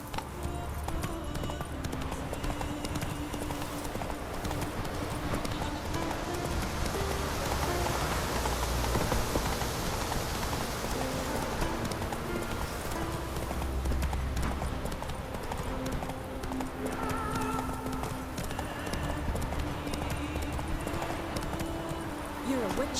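A horse's hooves clip-clop steadily and close in The Witcher 3, keeping an even rhythm over a soft patter of rain, with voices speaking at moments.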